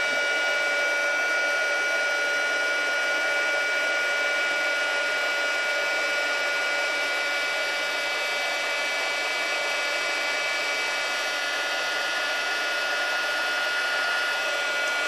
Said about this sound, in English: when you use a heat gun, the cardstock tends to warp a little